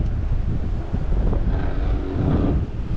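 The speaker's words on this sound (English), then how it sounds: "That wind is blowing us" Wind blowing across a river while fishing from a boat, a steady low rumbling buffet against the microphone that roars continuously and close for the whole stretch.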